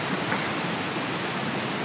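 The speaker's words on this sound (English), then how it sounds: "plenty of water in the river, in the creek" Creek water flows in a steady, close broadband rush during mushroom hunting in autumn woods near Bergen, Norway, continuous and even with no voices.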